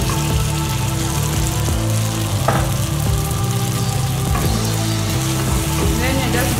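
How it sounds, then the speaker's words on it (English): Matoke pieces going into a hot pan of peanut sauce, giving a steady sizzle with scraping stirs throughout, close and fairly loud under a low background hum. "And then from here we are going to add in our matoke."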